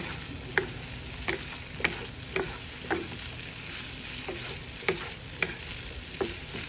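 Shredded potatoes for hash fry in a pan with a faint, steady sizzle, broken by about a dozen light, evenly spaced scraping taps from stirring, with no talking.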